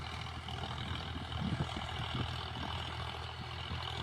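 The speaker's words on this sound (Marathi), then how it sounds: "ट्रॅक्टरच्या साहाय्याने रोटावेटर चालू आहे," A steady low engine drone of a tractor pulling a rotavator to prepare a field runs throughout, with faint rumbling and rattling texture, moderately distant and even in level.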